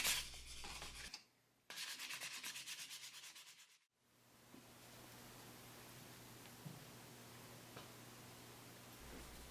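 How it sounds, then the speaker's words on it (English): Harsh, steady abrasive rubbing of sandpaper removing clear coat from the aluminum forks of a 1975 Honda MR50 Elsinore, starting in strokes and settling into a continuous gritty hiss with a low hum underneath. "Lots and lots of sanding."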